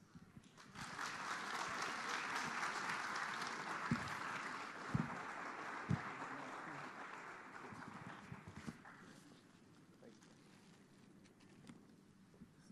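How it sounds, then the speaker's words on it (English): An audience gives a round of applause for Caelan and Dung, fairly quiet clapping that swells, holds for several seconds with a few sharp thumps, then fades to scattered claps. "Would you please give them another round of applause?"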